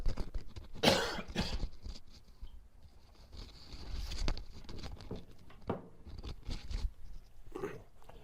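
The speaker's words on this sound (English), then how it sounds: "excuse my coughing, I'm just getting over a bug here" A person recovering from a bug coughs, one loud harsh burst near the start followed by a few quieter coughs and throat sounds scattered through the rest, close and without speech.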